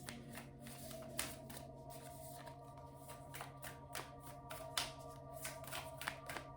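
Tarot cards are shuffled by hand in soft, repeated riffling and tapping bursts, quiet and close, over a faint steady hum with no talking.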